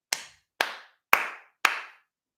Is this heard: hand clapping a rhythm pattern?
yes